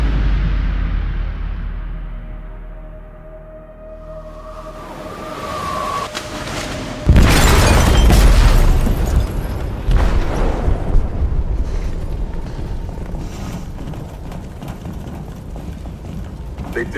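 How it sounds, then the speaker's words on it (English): An explosive detonating in a ship's hold in Detroit: Become Human, a sudden heavy boom after a quieter rumbling buildup, followed by sustained loud roaring debris and rumble with scattered crashes. "They detonated an explosive in the hold."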